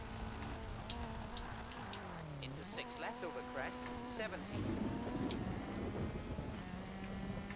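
Steady rain hissing across the stage in Colin McRae Rally 2005, with a rally car engine droning and shifting pitch underneath while a co-driver reads pace notes over it.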